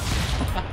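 A burst of gunfire from the Stick Fight video game, a loud, dense crackle filling a split second with no gaps between shots.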